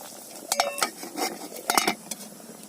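A lid goes onto a cooking pot of home-cooked Filipino food, making two short bursts of metallic clinks and clatter close by, with a quiet pause between them.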